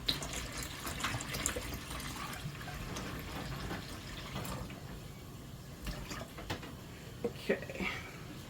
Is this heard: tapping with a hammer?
no